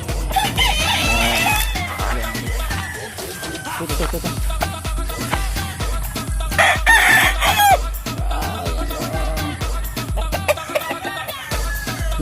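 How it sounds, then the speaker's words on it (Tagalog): Gamecocks and chickens around their coops crow and cluck repeatedly, loud and fairly close, over a steady low thumping rhythm in the background. "Mga manok. Bahay. Bahay ng manok."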